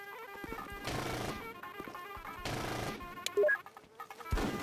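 Bursts of automatic gunfire ring out in the combat video game Full Spectrum Warrior, coming in separate volleys with short gaps between them, and a sharp impact lands near the end.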